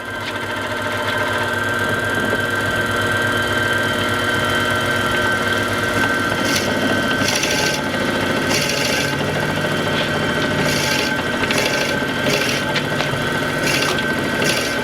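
A Wen wood lathe bores slowly into a rotating reclaimed oak blank, giving a steady motor hum with a scraping, rasping cut that grows into bursts of harsher grinding, with no voices.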